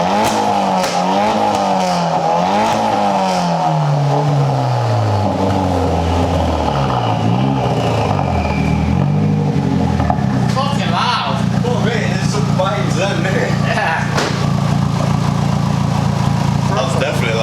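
A loud Volkswagen Golf R engine with resonator delete and decat exhaust revs up and down in long sweeps, harsh and raspy, then settles into a rumbling idle while people talk over it.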